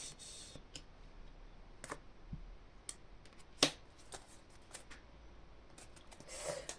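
Tarot cards shuffled and drawn by hand during a reading, a quiet run of soft papery slides and light flicks with a few sharper snaps, close and alone.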